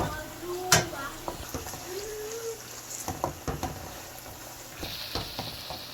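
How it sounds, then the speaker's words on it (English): Red bell peppers frying in a pan to dry them out, a moderate sizzle under scattered stirring scrapes and utensil knocks, with a voice speaking at times. "So we're going to fry this to dry."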